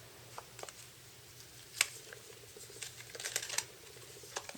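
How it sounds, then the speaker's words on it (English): Loose sequins rattling inside a handmade paper shaker pocket on a vintage farmhouse craft flip, faint scattered ticks and patters close by, growing busier toward the end, with no talking. "So I have a shaker pocket. You can hear it in there."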